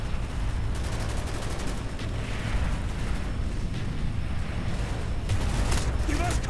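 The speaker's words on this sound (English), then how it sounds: "I feel like he's shooting me with a rocket launcher" Continuous explosive gunfire and heavy blasts from a Call of Duty: Black Ops battle on veteran difficulty, with rocket launcher shots, rumble dense and loud throughout the whole stretch with no pauses.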